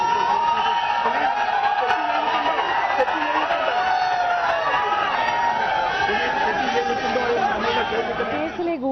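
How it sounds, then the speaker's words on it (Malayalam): A large crowd outside a hotel boos and jeers at actor Dileep, a dense, continuous roar of voices, shouts and whoops that stays loud and steady throughout. "തിരികെ ഇറക്കിയപ്പോഴും ജനക്കൂട്ടം കൂകി വിളിച്ച് ഇരമ്പിയാർത്തു"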